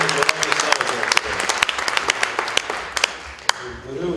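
Applause at a science awards ceremony of the Bulgarian Academy of Sciences, a crowd clapping with sharp individual claps standing out for about four seconds before fading, with speech mixed in.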